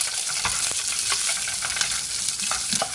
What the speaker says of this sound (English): the onions, the garlic, and green chili, and give that a good mix